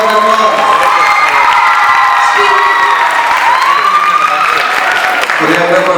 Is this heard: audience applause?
yes